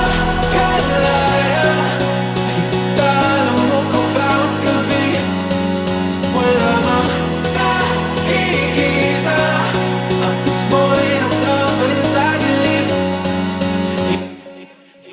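The chorus of a house remix plays loud and full, with a pumping bassline, a steady four-on-the-floor beat and layered synths before a quick fade at the end.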